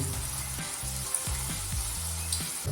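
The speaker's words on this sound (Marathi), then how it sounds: "टिक्की मस्त मस्तपैकी एक साईडनी खरपूस भाजू देऊया" Cabbage tikki frying in oil in a pan, a bright steady sizzle close by with low thumps and scrapes from the pan, no voices.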